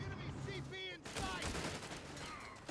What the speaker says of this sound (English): And heavy machine gun set up here.